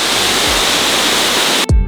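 Waterfall on Réunion island roaring as a steady, dense broadband wash at close range, loud and unbroken, with a brief low thump near the end.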